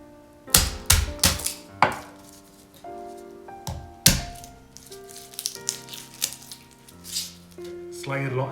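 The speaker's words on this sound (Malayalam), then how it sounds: "ലെങ്ത് വൈസ് സ്ലൈസ് ചെയ്യുന്നത് നല്ലതായിരിക്കും" A knife cuts garlic cloves lengthwise on a board in a series of sharp, irregular taps and thunks, some close together, some spaced apart, while a person talks over the cutting.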